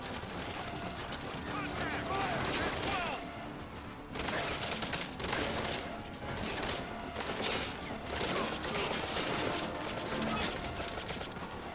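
Rifle fire in Metal Gear Solid V: Ground Zeroes crackles in quick bursts amid a loud, busy combat din, with someone talking over it throughout.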